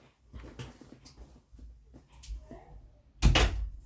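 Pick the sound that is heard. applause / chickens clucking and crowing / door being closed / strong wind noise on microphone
door being closed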